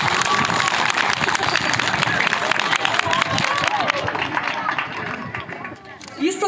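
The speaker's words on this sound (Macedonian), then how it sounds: "Ве молам еден аплауз за сите." An audience claps at a primary school's pre-New Year show in the village of Mislesevo, with dense, sustained applause from many hands that thins and fades toward the end.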